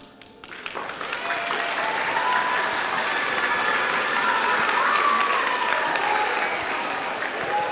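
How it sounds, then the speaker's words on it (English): Sustained applause from a large crowd at a piano performance swells quickly and holds steady, dense clapping with a few scattered cheers mixed in. "please keep the applause coming for our featured artist, our featured poet Ramis, Alexi Oha"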